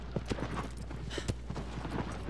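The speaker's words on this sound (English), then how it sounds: "Horse noises." Horse hooves clop in Shadow of the Colossus, a steady, close rhythm of hoofbeats over a low hum, with no voices.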